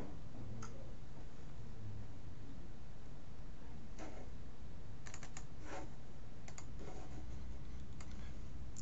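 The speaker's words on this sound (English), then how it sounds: "I'm going to click on lame download page." A computer mouse clicks a handful of times at irregular intervals, short sharp ticks over a steady low hiss, with no voices.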